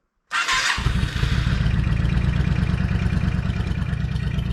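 A Yamaha V Star 650 motorcycle engine cranks briefly and then fires into a steady, loud, close idle that continues alone to the end.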